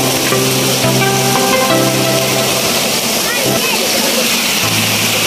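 Spring water runs steadily at an outdoor bathing spot, a continuous broadband rush that fills the whole clip, with a voice talking over it and a hum beneath.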